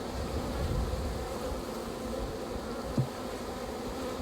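Honeybees at a very large hive hum in a dense, steady drone, close and continuous, with a single faint knock partway through and no talking.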